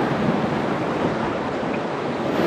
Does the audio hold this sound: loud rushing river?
yes